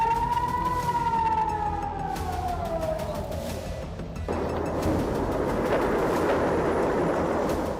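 An air raid siren wails over Tel Aviv during a missile attack, its long rising and falling tone loud and sustained. Midway a heavy broadband rush cuts in and continues beneath it.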